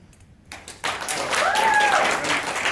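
Applause from a crowd swells up after a brief pause, a dense wash of clapping that keeps going, with a voice faintly over it.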